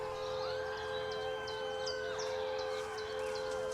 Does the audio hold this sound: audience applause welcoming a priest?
no